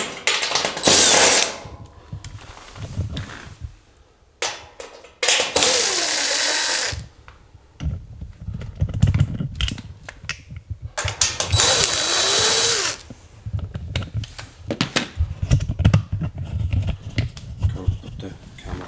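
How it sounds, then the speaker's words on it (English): Screws are driven out of a Samsung oven panel with a power driver, bursts of whirring and ratcheting clicks alternating with brief pauses and handling clatter, with talk in between. "now I'm going to pull all the screws out."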